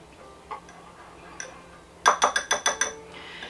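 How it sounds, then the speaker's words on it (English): Peanut sauce made from PB powder being whisked in a bowl, a quick run of about six rhythmic clinking strokes after a couple of isolated taps, close and clear. "Just whisking it up."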